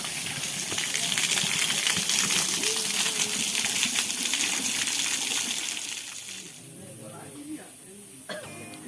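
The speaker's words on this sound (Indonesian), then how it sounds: "Ini airnya enak banget ngalir. Melimpah." Spring water flows and splashes at the trail's water source on the Palutungan route of Mount Ciremai, a loud rushing gush close by that drops away near the end, with people talking over it.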